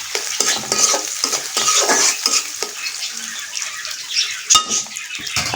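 Onions fry with garam masala in a pan, a close sizzle broken by repeated scraping stirs of a spoon against the metal, with no talk.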